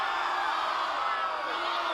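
A wrestling crowd at an outdoor festival event reacting to a near-fall, a dense wash of cheering and yelling that stays loud and sustained for the whole moment.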